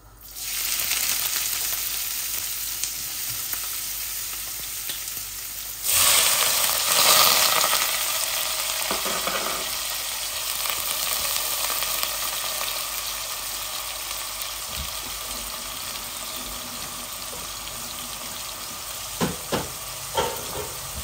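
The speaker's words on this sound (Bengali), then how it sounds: "এখন আমি পেঁয়াজ গুলা দিয়ে দিচ্ছি" Sliced onions frying in a pan while a Bangladeshi curry of chital fish, bean seeds and eggs is being cooked, giving a steady close sizzle throughout with a louder burst of spitting and stirring partway, plus occasional clinks.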